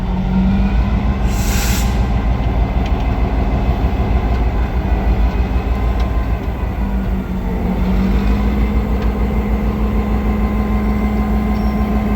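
Loud, steady rumble of a diesel F unit locomotive that sounds unlike a normal F unit, with a sustained low engine tone and a brief high whine early on; rail noise continues throughout without speech.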